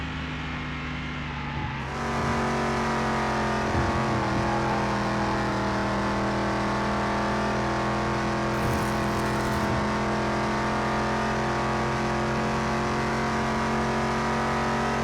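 A car engine in the racing game Car Mechanic Simulator 2021 roars loudly and continuously, kicking up to a sustained high rev after a quieter opening and holding steady throughout.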